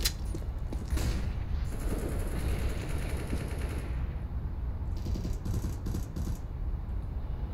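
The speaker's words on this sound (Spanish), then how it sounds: "Por los tiros que he oído." Continuous rattling gunfire from Counter-Strike: Global Offensive, bursts of shots layered over a dense, noisy background with no voices.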